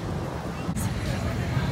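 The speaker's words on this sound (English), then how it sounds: "Probably can't hear anything I'm saying because it's windy" Wind buffets the microphone outdoors at Millennium Park in Chicago, a steady low rumble throughout with a brief gust-like burst near the middle.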